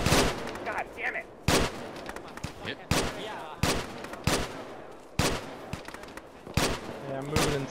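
Bursts of gunfire from enemies firing from atop a control tower in the military shooter Arma, loud sharp shots repeating roughly every second and a half, with voices talking in between.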